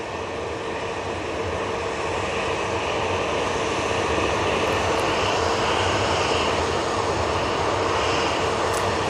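A plane landing at Manchester Airport roars steadily overhead, a loud sustained jet engine wash that builds slightly and holds for the whole stretch, with no talk.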